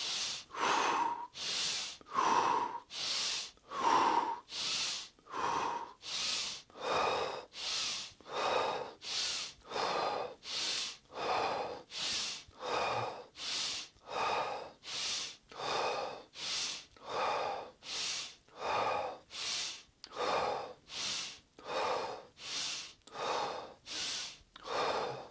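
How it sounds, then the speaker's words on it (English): Deep, forceful Tummo breathing exercise: about twenty-five rhythmic cycles of loud, rushing inhales and exhales, close and regular, with no talk. "Inhale, exhale fully."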